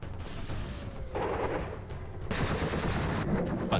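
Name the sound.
WZ-10 attack helicopter firing weapons at a target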